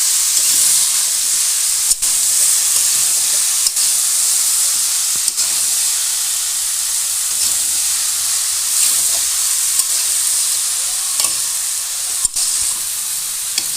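Chopped bottle gourd sizzles in a hot pan with potatoes, giving a continuous loud bright hiss. Faint scraping and clicking sounds at irregular intervals come from stirring. Nobody talks over it.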